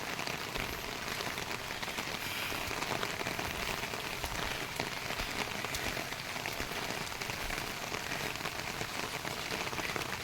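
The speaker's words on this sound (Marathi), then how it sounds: "एकतर पावसाळी वातावरण आहे" Steady rain falls and patters on surfaces around a villa in the Mulshi hills during the monsoon, a continuous soft hiss with no voices.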